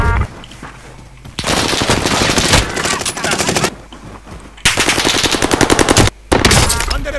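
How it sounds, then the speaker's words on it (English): Call of Duty gunfire on the Caldera map, long loud bursts of rapid automatic fire up close, separated by brief quieter gaps, with one short pause before a final burst. "Under fire here."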